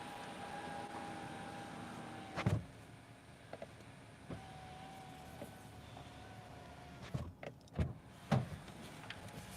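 Power windows of a 2025 Hyundai Tucson Ultimate Hybrid motoring closed inside the cabin, several short whirring runs ending in soft thumps, quiet against a hushed interior.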